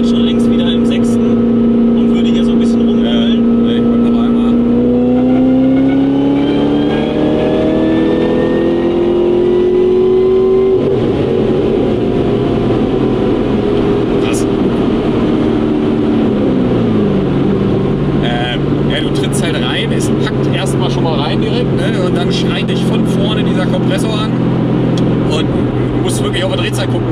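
An 800 hp supercharged Corvette ZR1 accelerates hard up to its rev limiter, its engine note rising loud and strained through the gears before dropping off, while people talk inside the car.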